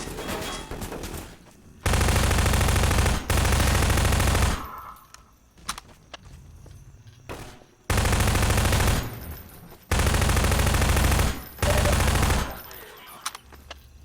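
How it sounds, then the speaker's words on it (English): Loud rapid gunfire from the Half-Life video game rips out in several long sustained bursts as barrels are shot, with quieter gaps of room tone between volleys. "by this time I decide to shoot the barrels"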